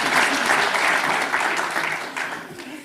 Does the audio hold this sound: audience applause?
yes